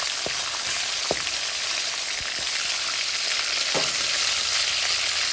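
Fenugreek, mustard seeds, cumin and onion sauté in hot oil for a kuzhambu, with green and dried chillies going in too. A steady close sizzle hiss runs throughout, broken by a few light stirring clicks.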